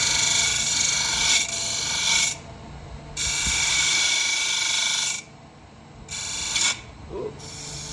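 Lathe tool cutting the rim of a wooden goblet, a broad raspy scraping in several bursts of a few seconds each with brief quiet gaps between them, close and fairly loud.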